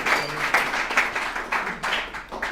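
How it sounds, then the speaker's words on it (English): An audience at a recovery alumni meeting applauds a guest speaker coming up, steady nearby clapping in uneven surges that swell and ease over a couple of seconds. "Let's give him a round of applause"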